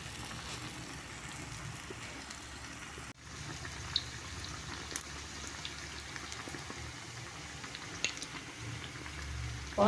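Ulundu vadai, a lentil fritter, frying in hot oil, giving a steady soft bubbling sizzle with scattered light pops and a brief dip partway through.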